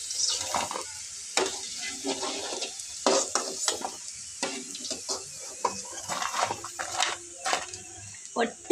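Bitter gourd pakoda deep frying in hot oil gives a steady sizzle with intermittent stirring clatter and scraping, close and moderately loud, while someone talks over it.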